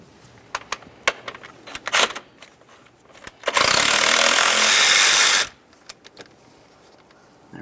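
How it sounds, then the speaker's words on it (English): Working on a 1998–2011 Ford Ranger 2.3L four-cylinder intake, a power tool whirs loudly for about two seconds on an 8mm headed bolt, framed by sharp metallic clicks and clinks from tools and hardware. "We can start removing these 3 8mm headed bolts."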